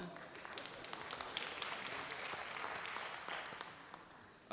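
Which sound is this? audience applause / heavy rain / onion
audience applause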